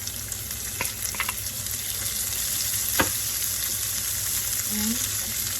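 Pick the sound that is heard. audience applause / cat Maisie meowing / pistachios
pistachios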